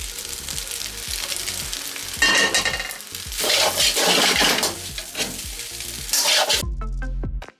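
Prawns dropped into Mauritian-style Chinese prawn fried rice crackle in a hot pan, a loud steady sizzle with stirring scrapes that rises as they hit the oil, ending on a brief separate clatter.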